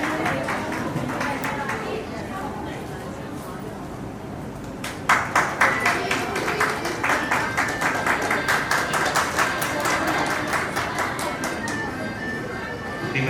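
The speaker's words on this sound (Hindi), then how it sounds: "सभी लोग तालियां बजाएंगे।" Audience at a retirement party breaking into a burst of clapping, dense and steady, rising suddenly after a stretch of murmured chatter and continuing under the room noise.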